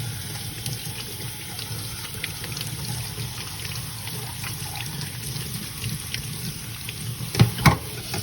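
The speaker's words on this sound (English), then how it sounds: "And I just continue to rinse it off." Running water from a tap rinses the separated discs and sleeve of a disc filter, a steady close splashing wash with no talk, broken by two brief louder gushes near the end.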